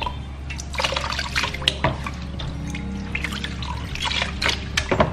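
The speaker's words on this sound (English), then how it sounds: "I'm gonna go ahead and soak my hair in the ACV." Apple cider vinegar rinse trickles and splashes as hair soaks in it, with steady close-up dripping and pouring of liquid.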